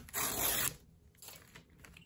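Paper torn by hand while crafting tea bag embellishments, a single close, loud tearing rip lasting about half a second, followed by faint quiet handling noises.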